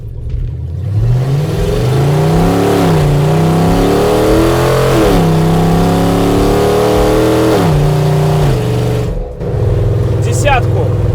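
A UAZ off-roader with a 300 hp engine accelerates moderately, its engine note climbing through several gear changes, loud and close, before briefly dropping off near the end.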